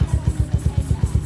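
KRY 200 motorcycle engine idling after being started, a close, loud and steady low putter with regular pulses and no talking.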